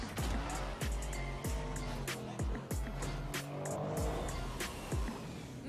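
A rocket-powered car in the Rocket League game trailer drives with repeated sharp impacts and tire squeals, loud engine and skid sounds recurring in a fast rhythm with no talking.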